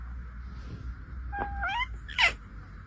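A house cat gives a short, faint meow and then a slightly louder sharper cry, both against a quiet room hum.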